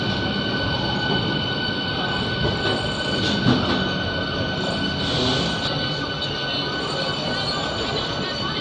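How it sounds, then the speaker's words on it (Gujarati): A passenger train passes through Secunderabad railway station, which is under renovation. Its wheels squeal loudly and steadily over a constant heavy rolling rumble, close and continuous throughout. "सामने पर एक पैसेंजर ट्रेन जाय छे"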